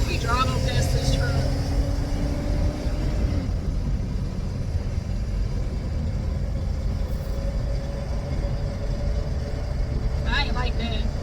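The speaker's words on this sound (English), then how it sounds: "We driving past this truck." A truck rumbles past a moving car, a low, heavy drone of engine and road noise that swells and fades from inside the cabin. Voices talk over the rumble.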